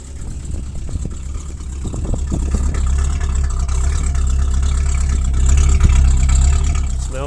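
Vehicle engine running after a cold start with head gasket sealer added, a steady low idle rumble that builds slightly in loudness, with faint clanking noises early on.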